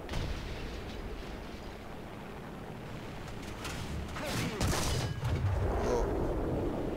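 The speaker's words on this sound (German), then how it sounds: "Jetzt kommt der 3. Schuss" A tank cannon shot from a Jagdpanzer IV hitting a target in War Thunder: a low rumble builds into a loud, sharp blast near the end, followed by a lingering roar.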